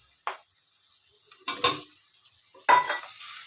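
Potatoes added to a pan of frying vegetables, three separate bursts of sizzling and spatula scraping, each flaring up and fading against near silence, the last the loudest.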